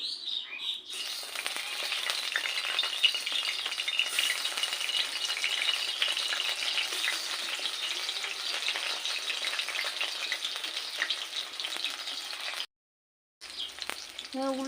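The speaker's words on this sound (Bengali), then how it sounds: "আর বাকি সব এরকম করেই ভেজে নেব।" Potatoes frying in oil, a loud continuous bright sizzle held close for most of the duration, breaking off briefly near the end before resuming, with faint bird chirps behind.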